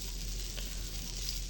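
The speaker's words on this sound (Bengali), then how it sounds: "বেগুনগুলো এক এক করে সবগুলো ছেড়ে দিলাম তেলের মধ্যে। হালকা আঁচে একটু নাড়াচাড়া দিয়ে ভালোভাবে ভেজে নিলাম।" Eggplant slices fry in oil over low heat, giving a faint, even sizzling hiss that runs continuously with no other sounds.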